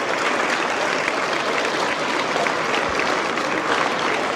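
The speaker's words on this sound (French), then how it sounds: "une bonne main d'applaudissements" Sustained, dense clapping fills the hall at an agricultural hall of fame ceremony, an unbroken even roar of many hands with no voices standing out.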